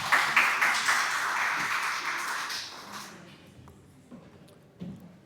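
An audience at an academic panel discussion applauds, a full burst of clapping that dies away after about three seconds, leaving scattered taps and faint room noise.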